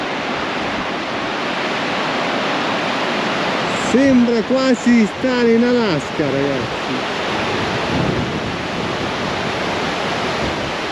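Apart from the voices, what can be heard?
river flowing in Patagonia near Cerro Torre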